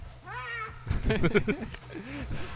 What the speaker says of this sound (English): Sounds like we've got a cat in here.